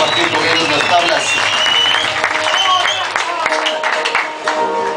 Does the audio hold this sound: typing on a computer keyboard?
no